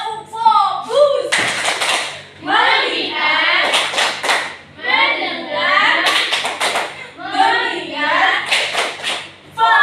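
A classroom of students performs a rhythmic 'tepuk fokus' routine during a microteaching lesson, chanting in unison between short bursts of group clapping that recur every second or so across the whole passage.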